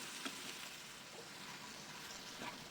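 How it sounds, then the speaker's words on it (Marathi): Small potato pieces sauté in oil with spices in a pan, making a faint, steady sizzle with soft crackles and occasional stirring. No voices are heard. "बटाटे असेच तेलावर परतून घ्या. बटाट्याला सर्व बाजूंनी मसाला लागला पाहिजे."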